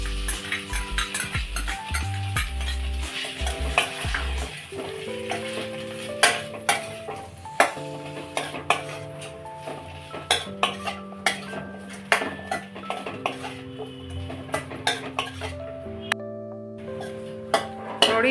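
Egg manchurian is stirred and tossed with tomato ketchup in a pan, with irregular metallic clinks and scrapes of a spoon against the pan over a faint sizzle and steady background music.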